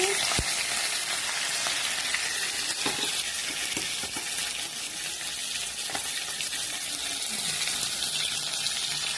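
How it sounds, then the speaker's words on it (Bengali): Tengra catfish fries in plenty of hot oil, producing a dense, continuous close-up sizzle with a few scrapes and knocks as the fried fish is lifted out. "মাছ ভাজা হয়ে গেছে, এবার তুলে নিব। মাছ ভাজাটা তুলে নিচ্ছি।"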